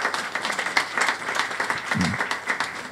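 Applause rises from a church congregation during a sermon, a moderate rhythmic patter of many hands that carries on steadily, with a brief murmur of a voice midway.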